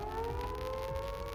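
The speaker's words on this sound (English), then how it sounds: "Sirens blare in all directions." Sirens wail in the video game Reverse Collapse: Code Name Bakery, a steady civil-defense-style tone sustained loudly without pause, with no speech over it.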